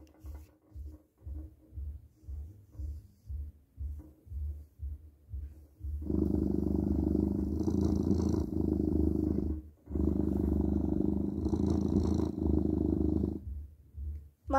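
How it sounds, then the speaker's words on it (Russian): A smart speaker plays a loud, close cat purring sound in two long continuous bursts, preceded by a rhythmic series of short, soft purr-like pulses. "Также данная колонка умеет мурлыкать."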